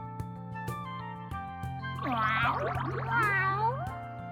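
A high, drawn-out cartoonish meow from the spirit Puck in the video game Re:Zero − The Prophecy of the Throne, with wavering pitch, repeated in a couple of bursts over steady background music.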